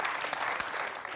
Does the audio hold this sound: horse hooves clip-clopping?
no